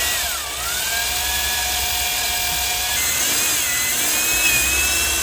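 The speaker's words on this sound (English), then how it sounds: "We're drilling a hole right next to the hole to make it bigger" A drill whines steadily while enlarging a hole in a camper storage bench build in a carport, the motor pitch wavering up and down as it bites, loud and continuous with no voices.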